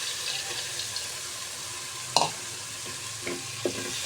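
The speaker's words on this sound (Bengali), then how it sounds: "ভালো করে আবার মিক্স করে নিতে হবে, মশলার সাথে কষা নিতে হবে ভালো করে।" Red lentils fry with spices such as cinnamon and cardamom in a pan for khichuri, a low sizzle broken by a few soft spatula scrapes and stirs.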